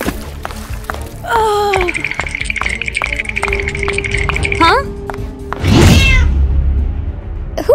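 An animated cat meows several times with drawn-out, pitch-bending cries, followed by a loud wailing caterwaul near the end, alongside other sound effects and voices.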